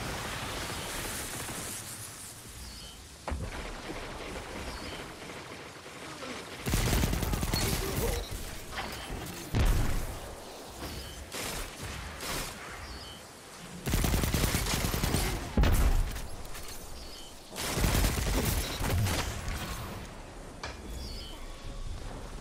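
Video game gunfire comes in repeated bursts of rapid automatic fire with loud blasts, separated by quieter stretches of game ambience. A voice announcer is heard between some of the bursts.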